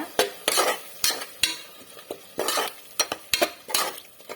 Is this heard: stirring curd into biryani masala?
yes